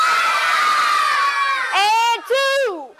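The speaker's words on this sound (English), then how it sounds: "Our loudest karate yells ever." A class of about twenty 4 to 6-year-old children shouting loud karate yells in a dojo, one long sustained group cry followed by two shorter sharp bursts, close and very loud.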